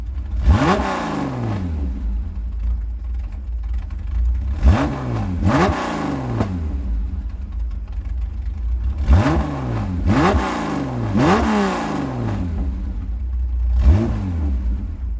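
A race car engine in the video game Gran Turismo 7 revs repeatedly, each rise in pitch ending in a sharp drop as gears shift, loud and close with no talking.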